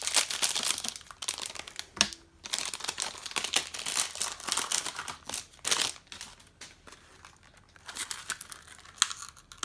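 Crinkly plastic packaging of a HeroClix miniature, a D&D Sahuagin Warband figure from Mage Knight Resurrection, being opened up close: sustained crumpling and crackling with bursts of tearing, steady and busy throughout, with no talking.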